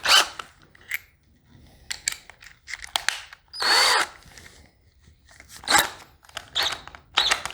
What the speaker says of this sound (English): you're going to be using the drill in reverse because you're trying to get a screw out